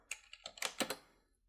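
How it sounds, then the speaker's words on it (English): A computer keyboard clicks in a short burst of several quick, close keystrokes, including the Enter key, alone and fairly faint. "I'm going to enter half a point and hit the Enter key on the keyboard."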